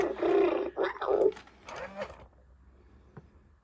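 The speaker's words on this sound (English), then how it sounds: "It still of course makes tiger noises." A FurReal Tyler tiger toy, stripped of its fur, lets out a few short electronic roaring growls in quick bursts, fairly close, before fading to quiet.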